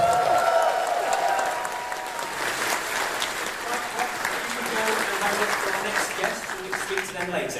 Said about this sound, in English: huge round of applause and great big cheer for Brandster